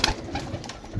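Pigeons kept for sale in Sarai Alamgir, Jhelum, Pakistan, giving a short, soft, throaty coo close by, with faint rustling around it.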